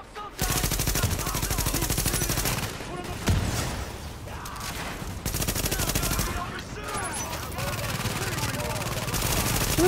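Rapid automatic gunfire from a machine gun in the video game Tom Clancy's The Division, loud and near, in sustained bursts with brief gaps, with voices shouting over the shooting.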